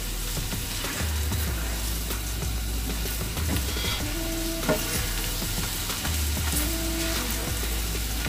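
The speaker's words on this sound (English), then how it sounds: "Let that flour cook down a little." Flour cooks down in a roux for a seafood gravy with shrimp and crawfish, giving a steady, close frying hiss that runs unbroken, with faint scraping from stirring and no talking.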